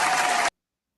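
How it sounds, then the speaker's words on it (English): An audience at a morning talk event claps in a round of applause, steady dense clapping for half a second before it cuts off abruptly into silence. "A round of applause, a round of applause."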